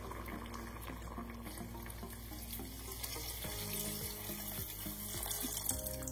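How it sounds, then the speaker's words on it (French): A litre of water runs into a tajine of okra and small onions as it is set to cook, a steady close splashing pour that carries on alone for several seconds. "nous allons ajouter 1 litre d'eau pour la cuisson."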